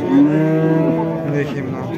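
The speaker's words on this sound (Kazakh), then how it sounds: "Мында семізі сиырдан көреміз." A cow at a busy livestock market gives a long, close, full-throated moo that swells early and trails off over two seconds, with faint market bustle behind it.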